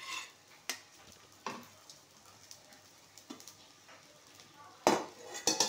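Onion, coriander, cumin and grated coconut being sautéed in a pan: a quiet sizzle under sharp metallic scrapes and clinks of a spoon against the pan, with a louder cluster of clatter near the end.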